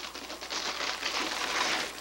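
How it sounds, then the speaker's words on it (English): An electric screwdriver, a small mini drill, whirs steadily for about two seconds with a fine buzzing, ratchety texture, close and fairly loud with no talking. "I have another electric screwdriver. All right. It's a mini drill."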